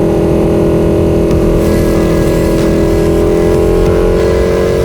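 A 2018 BMW R9T Racer's 1170cc boxer twin engine runs loud and close, a steady throaty drone that swells slightly as it revs, with no voices.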